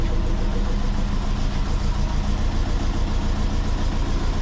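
A twin-turbo Subaru engine idles steadily with a smooth, even drone, no loud exhaust fitted, running on worn piston rings with big gaps; close and continuous with no talk.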